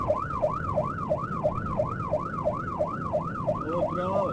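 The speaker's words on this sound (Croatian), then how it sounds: "Sireno." A fire engine siren from the Prijedor fire brigade at a burning hay bale fire wails steadily in a loud rising-and-falling cycle, about a dozen even sweeps, with engine rumble and a faint voice underneath.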